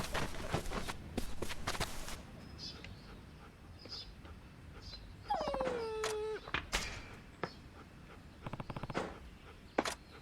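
Dog in a video game, heard as a rising then falling whimper-like whine midway, with scattered footstep clicks and game noise around it, close and moderately loud.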